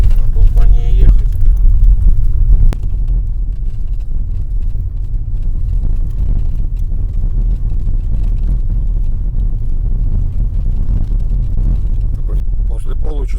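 A car drives steadily along a road in the Akhtuba area near Kharabali in September, its low engine rumble and road noise continuous throughout, with a louder, rougher stretch at the start.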